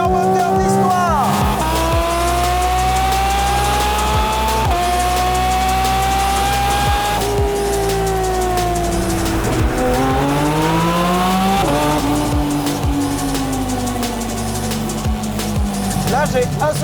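A Porsche Cayman GT4 RS on the move, its engine howling loudly and continuously, with pitch climbing and dropping through several gear changes and tyre noise running underneath.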